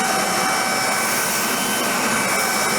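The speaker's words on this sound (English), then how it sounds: "the recovery on the battery vacuum is phenomenal" An RBV 150 battery vacuum runs on its high setting, giving a steady, loud whooshing airflow roar with a thin whine on top, constant and close with no pauses.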